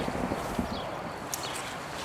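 A donkey walks close by, its hooves clopping in a steady, uneven rhythm over a faint outdoor background, with no one talking.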